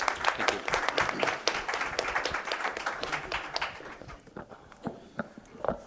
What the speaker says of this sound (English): a big round of applause for our panelists today